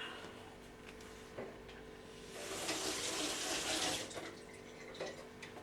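Tap water runs into a sink as a potato is washed for hash browns, a soft steady splashing that swells briefly louder midway, close by with no talk.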